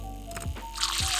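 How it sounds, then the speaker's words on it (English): An espresso machine's steam wand frothing dairy-free milk in a home kitchen, giving wet bubbling, squishing and hissing bursts that grow into a loud airy hiss toward the end, close to the microphone. "So I'm gonna show you how I froth."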